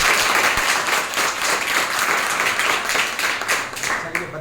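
Students in a coaching classroom break into loud, sustained applause, dense clapping from the whole group lasting throughout and fading slightly at the end.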